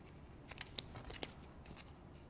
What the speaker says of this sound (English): with your scissors, you can just chop that off